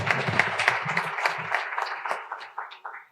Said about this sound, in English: he needs to hear this round of applause, loud and clear